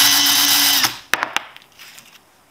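Electric drill spinning a case trimmer on .223 brass rifle casings, a loud steady whir for under a second that stops abruptly, followed by a few sharp clicks and light handling of the tool.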